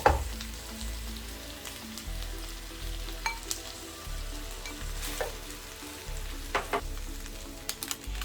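Parboiled rice and scrambled eggs are stir-fried in a hot pan, a steady sizzle broken by repeated spatula scrapes and sharp metallic clacks, close and distinct, with no one speaking.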